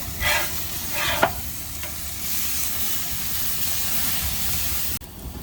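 Fresh ground brisket burger patties sizzle and hiss steadily on a hot cooking surface, with a couple of brief scraping or stirring bursts near the start and a sharp clink toward the end.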